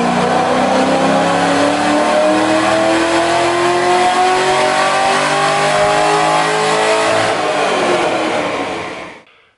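Cammed WS6 car on a dyno, its engine roaring loud and close as it revs up through a long, steadily rising pull before abruptly cutting off.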